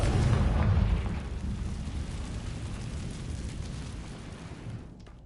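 A Confringo fire spell blasts in Hogwarts Legacy, a loud booming explosion up front that rolls into a long, dense rumble and slowly fades over several seconds.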